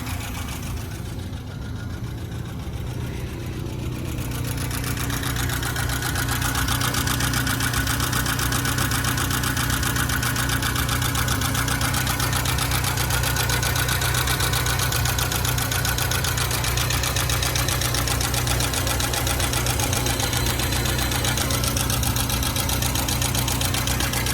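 A 1983 BMW 320i five-speed settles into a smooth, even idle, a steady low hum that climbs slightly early on and then holds constant throughout.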